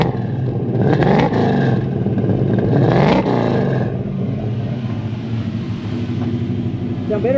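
A Toyota Hilux ute with a 1UZ V8 engine that had been backfiring runs and revs hard twice in quick succession, then settles into a rough, loud idle; people talk over it.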